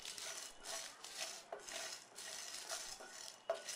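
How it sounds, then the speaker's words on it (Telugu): Dried chilies, cinnamon, coriander, cumin and poppy seeds are dry-roasted and stirred in a pan, giving faint rhythmic scraping and rustling strokes with a few sharper clinks, heard alone and quietly. "దోరగా ఫ్రై చేసుకోవాలి."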